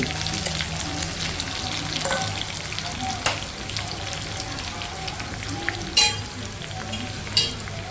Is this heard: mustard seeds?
yes